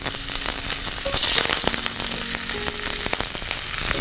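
Curry leaves crackle and spit in hot oil with a dense, close sizzle, sharp pops scattered through a steady hiss over four seconds.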